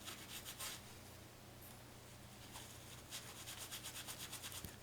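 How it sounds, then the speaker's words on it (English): A soft, quiet rubbing and scrubbing close up, in short back-and-forth strokes, as contact pads on the printed circuit board of an N scale Rapido diesel model locomotive are cleaned; no one speaks. "here I'm cleaning off the contact pads on the printed circuit board that holds the motor to the chassis."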